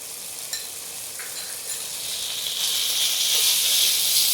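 Turmeric and spices sautéing in a pan for a vegetarian potato curry, a steady hiss of frying that swells louder and brighter partway through, with faint scrapes of stirring and no voices.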